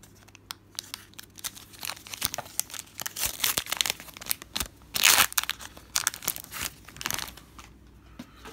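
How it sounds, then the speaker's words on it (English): A trading card booster pack's plastic wrapper is cut and torn open up close, with irregular crinkling, crunching and ripping of foil over several seconds, loudest midway and then settling into soft rustles. "Let's open up this pack. Sorry, I'll just have to give it a cut."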